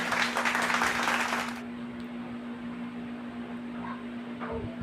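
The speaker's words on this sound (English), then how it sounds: "let's give a round of applause." A classroom of children applauds with brief, dense clapping close by for under two seconds, then falls to a quiet room hum with a few faint sounds.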